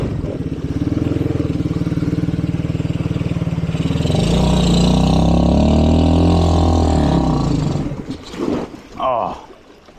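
A Chinese ATV with a lift kit, running on 92 fuel, roars loudly and steadily close by, its engine pitch rising as it revs, then sputtering and dropping off near the end.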